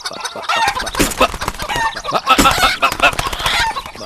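Loose chickens that have escaped from a supply vehicle cluck and squawk loudly and close by in rapid, agitated bursts, with a rooster-like crow mixed in.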